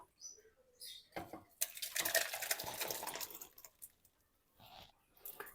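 Hot tempering poured into bottle gourd moong dal in a pan gives a loud sizzling splash lasting about a second and a half, set between soft clinks of utensils.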